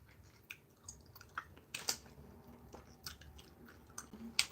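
Gum is chewed close to the microphone in quiet surroundings, giving soft wet smacks and clicks at an irregular rhythm, roughly one or two per second, with no talking.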